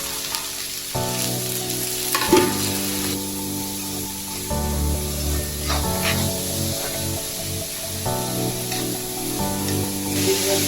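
Chopped green chili and ginger frying in hot oil, a continuous close sizzle and crackle with stirring scrapes and a few utensil taps, no voices.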